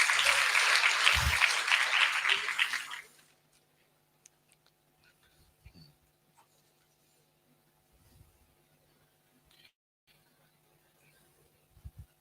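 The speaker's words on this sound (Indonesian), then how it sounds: "Tepuk tangan dong buat Zidan." At a Google Developer Group I/O Extended tech meetup in Jakarta, an audience applauds a presenter for about three seconds, loud and dense, before the applause stops abruptly and the room falls to near silence with faint scattered ticks.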